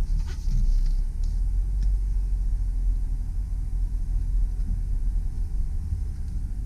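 A 2004 Lexus RX330 backs up slowly in reverse, its engine a low, steady rumble heard from inside the cabin, with faint road and tire noise and no talking.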